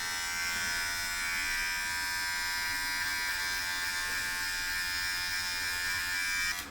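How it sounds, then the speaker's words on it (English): An electric hair clipper with a #1 guard buzzes continuously up close during an at-home buzz cut, a steady high-pitched motor whine holding level until it cuts off at the very end. "When I'm going with my clipper"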